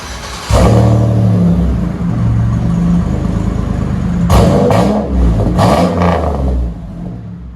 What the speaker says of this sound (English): That's how you dual these Chevy Impala LS's out. I'll let you guys hear it in a minute.